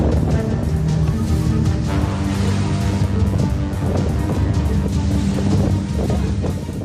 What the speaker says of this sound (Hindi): हवाओं की रफ्तार इतनी तेज थी कि चंद मिनटों में ही हवाएं अपने साथ सब कुछ उड़ा ले गई